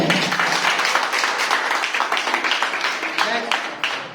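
Classroom of students applauding at a Saturday morning batch activity, a dense, steady patter of many hands clapping close by with faint voices mixed in.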